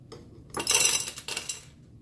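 Dry chana dal lentils pour into a glass bottle, making a short, bright rattling patter that swells, dips briefly and fades out within about a second.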